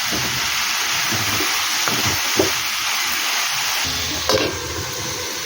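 Brinjal curry stirred in a pan with a spoon scraping now and then over a steady hiss of frying oil, close and continuous, with a few sharper knocks near the end.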